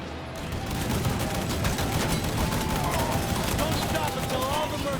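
Gunfire in the video game Mafia III, dense sustained bursts of rapid shots and crackling reports from a firefight, with voices heard over the shooting.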